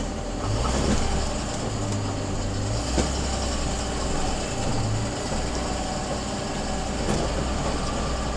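Toyota 4Runner engine working steadily in low-range four-wheel drive while climbing a rough, rocky, narrow shelf road off-road trail toward Big Bear; a continuous low rumbling drone with brief surges, loud and close throughout.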